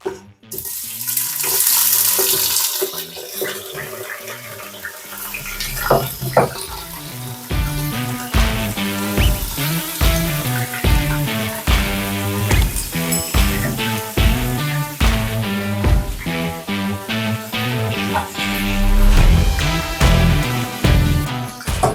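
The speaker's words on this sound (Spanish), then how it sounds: "con el aceite bien caliente vamos a echar nuestra carne" Pork meat goes into hot oil in a Ninja Foodi and bursts into a loud, close, crackling sizzle that keeps on under dense, irregular popping and spattering.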